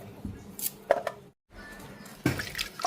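Wild forest mushrooms being rinsed under running water, with intermittent splashes and trickles broken by a brief pause, then a louder burst of water and sloshing.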